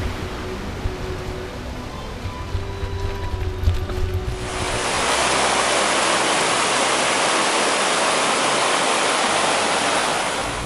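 A mountain river in the Val de Ruda rushes loudly and steadily, its roar filling the scene after a brief quieter stretch at the start.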